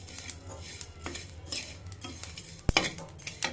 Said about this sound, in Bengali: তাই অনেকগুলো মশলা ভেজে নিচ্ছি।